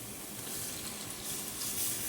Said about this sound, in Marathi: आता मी ह्यात 1 तांब्याभर पाणी घालते